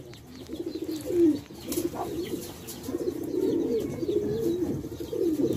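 Repeated soft cooing from a Sialkoti Motiyon wala pigeon with a pearl-coloured eye, low warbling coos running steadily throughout, close by, with faint chirps and background noise.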